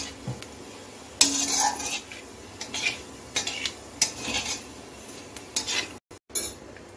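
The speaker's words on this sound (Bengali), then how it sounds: "এখন আমি কালো জিরে ফোড়নে দিচ্ছি। ফোড়নটা 30 সেকেন্ডের মতো ভেজে নিচ্ছি।" Nigella seeds fry briefly in hot oil in a wok, heard as irregular metal spatula scrapes and clatters over a faint, soft sizzle.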